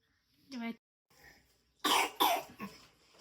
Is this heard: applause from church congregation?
no